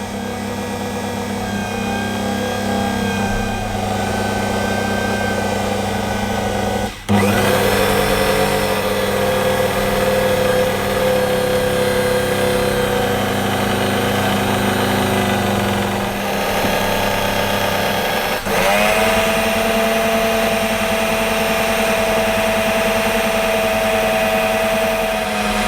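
A Kenwood Powermix food mixer whirring steadily with a motor whine, and the pitch steps up as the speed is raised. The hum stays continuous, with a clunk partway through.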